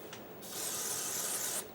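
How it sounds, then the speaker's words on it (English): DeoxIT contact cleaner hisses out of an aerosol can in one steady spray burst of a little over a second, close by, in a quiet room during a Commodore 64 keyboard repair. "I'm going to spray some deoxit"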